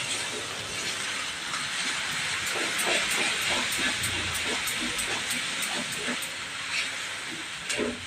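Spice paste frying in a kadhai makes a steady bright sizzle, with soft rhythmic scraping of a spoon stirring through it.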